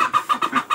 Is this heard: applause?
no